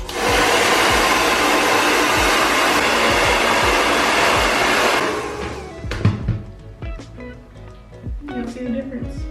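Hair dryer on a high heat setting runs loud and steady for about five seconds during a curly hair styling routine, then cuts off, leaving softer handling noises and a voice speaking.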